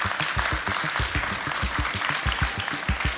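A comedy stand-up audience bursts into applause, with dense, steady clapping of many hands that stays loud and even throughout, and no voices over it.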